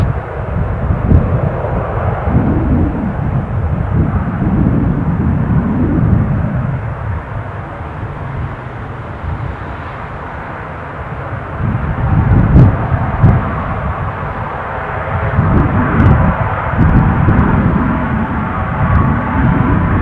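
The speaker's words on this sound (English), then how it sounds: "Watching those propellers rotate, it's almost hypnotic." Propeller aircraft at Newcastle airport, a steady broad engine drone that swells and eases across the whole stretch, fairly close and loud, with no talk over it.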